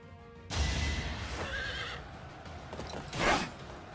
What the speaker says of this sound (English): Why has he got a horse?